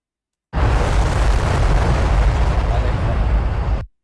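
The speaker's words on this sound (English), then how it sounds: "explosions." A loud, roaring explosion sound effect in Roblox bursts in suddenly and rumbles steadily for several seconds before cutting off abruptly.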